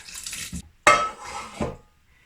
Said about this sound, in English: I'm gonna just tip it all into my blender.